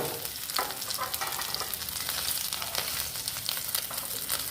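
Steady, crackling sizzle of dried loitta (Bombay duck) fish frying crisp in hot oil, close and continuous, with occasional louder pops and no voices.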